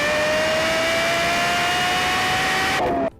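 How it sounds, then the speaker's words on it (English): Lexus supercar engine screaming through its triple exit exhaust, a loud, high, steadily rising rev held for about three seconds before cutting off abruptly, with no talk. "The triple exit exhaust was extremely fine-tuned to have one of the best sounding exhausts ever."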